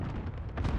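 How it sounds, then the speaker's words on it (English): Cluster strike explosions in Call of Duty: Modern Warfare, a rumbling volley of deep booms with overlapping bursts over a little under a second. "Friendly cluster strike inbound."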